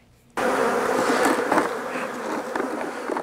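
Honey bees swarm around beehives at a northern Michigan beekeeping yard in Benzie County. After a brief quiet start, a dense, loud, steady buzz of many insects kicks in close by and holds without pause.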